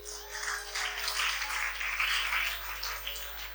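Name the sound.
audience applause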